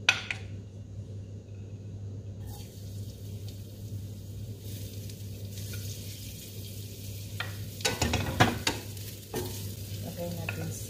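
Garlic frying in a pan with tomato paste gives a steady close sizzle, with a few louder bursts of stirring and utensil scraping near the end.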